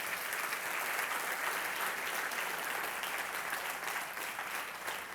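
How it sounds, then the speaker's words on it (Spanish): A church congregation applauds in praise during a sermon, steady continuous clapping that stays even and moderately loud from start to finish. "Era un aplauso al Señor por eso."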